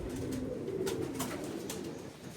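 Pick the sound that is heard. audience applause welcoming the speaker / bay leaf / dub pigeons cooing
dub pigeons cooing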